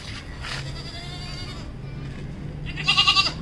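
Goats bleat at a goat farm over steady background noise, with a louder wavering bleat near the end.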